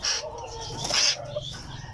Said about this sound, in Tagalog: Napakaingay ng ibon na to